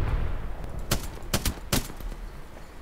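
Bursts of video game gunfire crack out in short volleys, several sharp shots clustered together over a steady low background rumble, with no talking.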